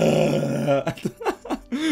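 A dog gives a low, rumbling growl that turns into a few short grunting, guttural bursts, close and fairly loud.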